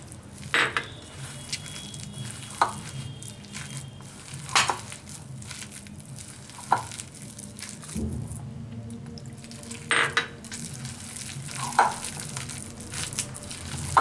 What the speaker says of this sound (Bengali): এবার আমি হাত দিয়ে মেখে নেবো এটা। এবার অল্প অল্প করে আমি জল দেব।